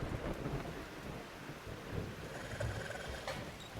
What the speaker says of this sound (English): Yeah, this is downpour.